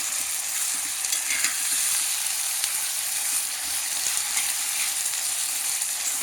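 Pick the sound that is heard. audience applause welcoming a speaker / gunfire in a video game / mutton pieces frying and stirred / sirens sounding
mutton pieces frying and stirred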